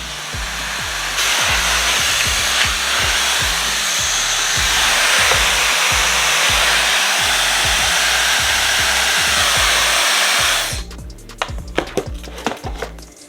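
A lightweight blow dryer with a brushless motor runs on hair with a loud, steady airy whoosh over a rhythmic rubbing pulse from the hair being worked, then shuts off, leaving quiet handling sounds.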